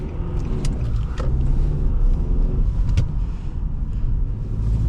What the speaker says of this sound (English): So setting off in this Altima